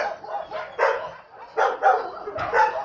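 Young puppy barking at an animal shelter, a run of short yappy barks in close succession, fairly near and clear with no talk.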